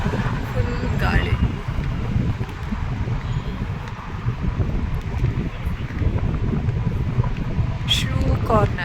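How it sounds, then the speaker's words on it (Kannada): A strong wind blows outdoors in Abu Dhabi, with heavy rumbling gusts buffeting the microphone throughout and brief distant voices. "ಫುಲ್ ಗಾಳಿ."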